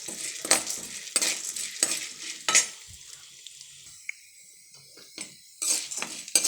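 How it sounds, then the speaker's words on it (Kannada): Chana dal is dry-roasted on a low flame while making bisibelebath powder. A spoon stirs in intermittent bursts, with gritty scraping of lentils against the pan and quiet pauses between strokes. "ಕಡಲೆಬೇಳೆನ ಲೋ ಫ್ಲೇಮಲ್ಲೇ ಫ್ರೈ ಮಾಡ್ಕೊಳ್ಳಿ."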